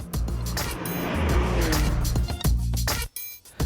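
A powerful AMG car driven hard on a racetrack, its engine revving loud and close while tires squeal and scrub through a corner, with abrupt breaks as the sound cuts away near the end.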